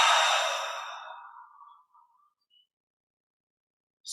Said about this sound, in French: on garde l'air dedans, on détend tous les muscles et on expire par la bouche